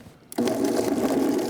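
A blender or food processor purees sliced peaches, starting abruptly after a brief quiet moment and then running as a loud, steady whir to the end.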